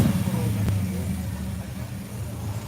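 A Plymouth GTX at a classic car show in Glendora, California idles with a steady low rumble close by, holding an even throaty drone for the whole stretch without clear revving.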